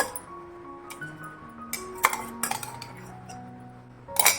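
A spoon clinks and taps against a mixer jar and a small bowl while coarse chilli-ginger thecha is scooped out, giving a string of sharp metallic chinks with short ringing tones and quiet gaps.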